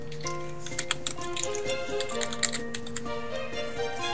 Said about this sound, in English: You're typing an awful lot.